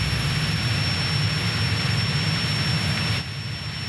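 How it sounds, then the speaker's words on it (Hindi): A cartoon jet fighter plane roaring in flight, a continuous loud engine rumble with a high whine, steady until it drops slightly in level near the end, with no voices. "लखा का ये बेवकूफ विमान मुझे हरा नहीं सकता"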